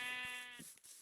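Sheep bleating in the Minecraft video game: one wavering, nasal bleat held for about half a second, close and clear, then fading into quiet background hiss.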